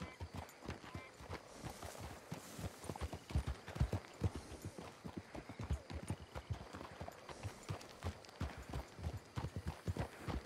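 A horse's hooves clip-clop steadily for about ten seconds, close and in a brisk, even rhythm, with faint voices now and then.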